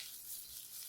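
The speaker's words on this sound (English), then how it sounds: "It should be frying in the butter like this." Vermicelli frying in butter over medium heat, giving a steady soft sizzle that fills the short moment without pause or voices.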